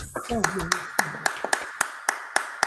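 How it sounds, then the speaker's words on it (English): Online participants unmute to applaud Dr. Oba T'Shaka, and one person's crisp claps land at a steady beat through the mic while another voice speaks briefly at the start. "let's give him a round of applause"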